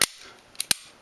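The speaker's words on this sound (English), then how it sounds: "Just put it on, slides right on." A Viridian X5L laser sight slides onto the rail of a Taurus 9mm pistol: one sharp click, then two quick snapping clicks as it seats, close and crisp.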